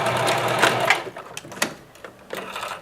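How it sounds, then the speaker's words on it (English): A sewing machine runs in short bursts, stitching back and forth over elastic casing on fabric. It gives a close, busy mechanical whir that starts and stops, with brief pauses between the runs. "And just sew it back and forth"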